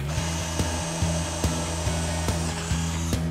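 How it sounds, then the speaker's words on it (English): A power drill bores a hole through a board with a steady droning whine, a faint rhythmic tick repeating about every half second, moderately loud and close with no voices. "Just drill it all the way through."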